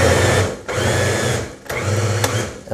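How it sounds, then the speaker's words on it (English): A blender whirs loudly as it blends chickpeas with about half a cup of water, a steady motor drone that cuts out briefly twice and restarts, with no talking. "We're going to take this over to our blender with about a 1/2 a cup of water."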